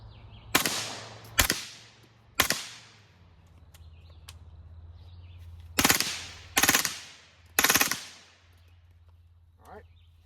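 Semi-automatic shots from a PTR MP5K clone pistol at an outdoor range ring out as sharp, loud cracks, three spaced single shots, a pause, then three more, each followed by a short echo.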